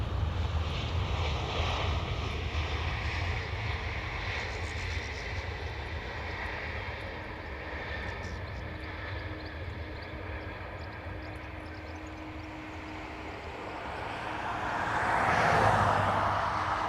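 A Eurowings airliner on approach to Dublin Airport, heard as a steady, fairly distant engine roar that holds even for most of the clip, then swells briefly near the end as the plane passes closer.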